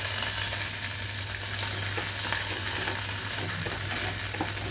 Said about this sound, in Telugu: ఇప్పుడు ఇదే ఆయిల్లోకి బెండకాయ ముక్కలు వేస్తున్నాను